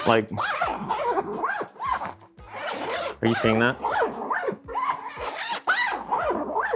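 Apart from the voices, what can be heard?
bag zipper being opened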